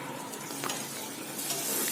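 Tomato frying in a pan with a small pinch of salt, a dense, close hiss that stays loud and steady. Light scraping from stirring sits on top of it.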